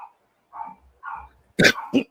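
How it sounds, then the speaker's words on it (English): A dog barks indoors during a casual chat: soft whimpery yips, then a couple of loud, close barks in quick succession. "Whose dog's that?"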